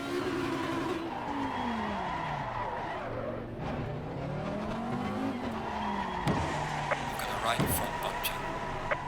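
Tyres screech and skid as a race car brakes hard to a stop in the racing game Assetto Corsa Competizione, a loud continuous squeal with engine tones sweeping underneath, ending in a few sharp knocks.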